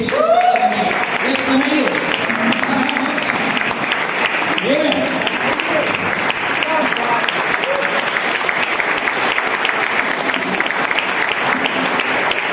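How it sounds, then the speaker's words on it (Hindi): At a business meeting, an audience applauds enthusiastically with loud, continuous, dense clapping for over twelve seconds. Cheers and voices break through intermittently near the start. "जबरदस्त तरीके से ताली बजाने की"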